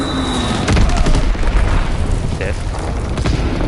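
A blast in the Call of Duty: WWII multiplayer beta, heard as a dull boom with rumbling debris and scattered shots at moderate loudness, partly under a player talking.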